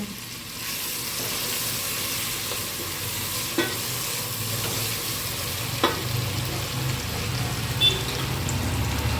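Ghee heats in a pan on the stove for masala rice. A soft, continuous frying hiss runs throughout, with a few faint clinks of a utensil scattered across it. No one speaks.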